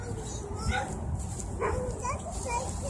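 Dogs bark and yip a few times from some distance, coming from nearby apartments, intermittent over steady outdoor background noise.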